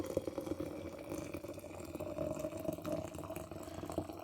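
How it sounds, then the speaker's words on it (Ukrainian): Very hot, nearly boiling water pours into a glass with a steady bubbling, gurgling trickle and faint clinks, close and quiet, continuing without pause and with no speech. "Далі додаємо дуже гарячий майже кип'яток."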